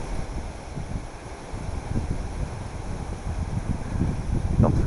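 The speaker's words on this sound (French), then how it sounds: "Les bambous plient sous le vent là." Cyclone Gamède wind arriving in irregular gusts, bending and shaking bamboo and trees nearby, a steady loud rushing roar with heavy low-frequency buffeting on the microphone that swells toward the end.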